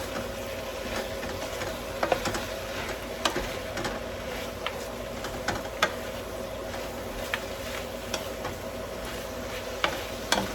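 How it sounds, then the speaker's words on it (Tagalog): Bottle gourd (upo) and tofu are stirred in a pan, with scraping clicks of the utensil every second or so over a steady low sizzle, close and fairly quiet, no voices. "And then I put the upo. Mix."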